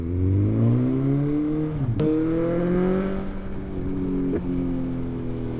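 A BMW S1000XR motorcycle with a Black Widow decat exhaust revs hard, its engine note climbing, then dropping briefly at two quick gear changes before rising again, loud and close.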